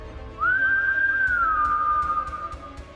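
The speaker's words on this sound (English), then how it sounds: "I jerk my devil fingers up and whistle at him" A single clear, loud whistle held for about two seconds, rising quickly then gliding slightly lower before fading, close by.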